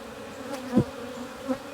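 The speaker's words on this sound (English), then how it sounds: "Can you hear the bees?" Honeybees hum inside a crowded hive with capped brood, a faint low drone with a couple of brief louder buzzes as single bees pass near.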